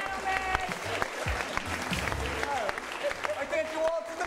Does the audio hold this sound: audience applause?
yes